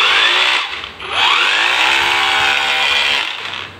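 A new Lotus 20V brushless rotary hammer runs close and loud, spinning up after a brief dip, then holding a steady high whine with changing tones.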